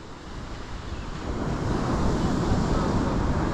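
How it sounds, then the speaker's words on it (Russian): Big sea waves wash in on the shore at Atlit, a broad continuous roar that builds and stays loud, mixed with wind buffeting the microphone. "Ну, тут тоже волна большая."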